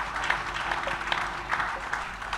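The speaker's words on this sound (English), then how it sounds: "With an applause from scholars in the room" A room of scholars at a reproductive health forum applauds, steady moderate clapping with a few louder individual claps across the brief stretch.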